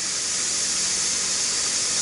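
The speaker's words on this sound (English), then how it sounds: "The little thing here on the handle is just popped up to let me know that it's got the steam in it." A pressure cooker on the stove, cooking chicken and dumplings, gives off a steady, loud hiss of escaping steam that holds unbroken for the whole stretch, with no voices over it.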